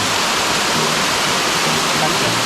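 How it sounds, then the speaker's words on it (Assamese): Langherang waterfall in Karbi Anglong roars as a dense, constant wash of rushing water, loud and close, filling the entire moment without a break. "আহি পালোঁ কাৰ্বিআংলঙৰ নতুন এটা জলপ্ৰপাত"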